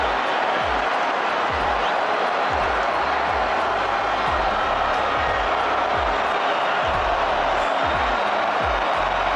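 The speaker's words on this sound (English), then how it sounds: "That wakes this crowd back up." A dense stadium crowd roars steadily at the Argentina versus Colombia Copa America final, a continuous wash of cheering and noise with low thumps underneath, loud and unbroken throughout.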